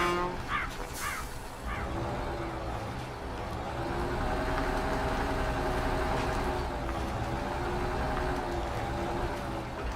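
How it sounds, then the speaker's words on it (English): Log truck hauling a trailer in the off-road driving game Spintires: Mudrunner, its engine droning steadily with a low rumble, a couple of brief tones near the start. "Got a log truck with a trailer already built."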